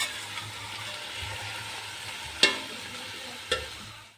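Chicken browns with spices in a pot for yakhni pulao, giving a constant sizzling hiss with soft stirring and two sharp utensil clicks against the pan.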